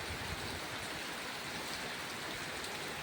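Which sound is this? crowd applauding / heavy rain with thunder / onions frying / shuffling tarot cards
heavy rain with thunder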